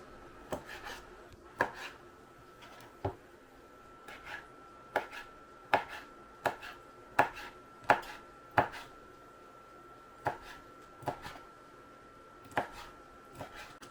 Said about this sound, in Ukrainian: І нам потрібно нарізати його на шматочки, такі, як ви бажаєте, як вам зручно їсти.